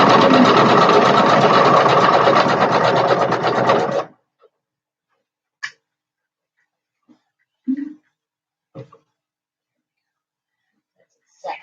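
A sewing machine runs a row of side topstitching about a quarter inch in, a steady dense whir lasting four seconds that then stops, followed by near silence with a few faint scattered clicks and small sounds.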